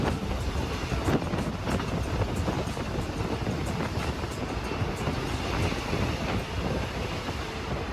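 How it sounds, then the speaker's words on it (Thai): Thai rapid train number 35 rolls into a railway station, a broad continuous rumble of wheels and carriages with faint rhythmic clicks, loud and sustained without voices. "ขบวนรถเร็วที่35กำลังเข้าสู่สถานีรถไฟวิทยา"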